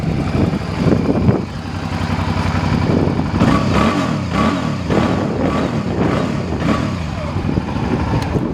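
A 2007 Suzuki V-Strom 650 motorcycle engine runs smoothly and steadily close by, with a constant throbbing idle and slight rises in revs.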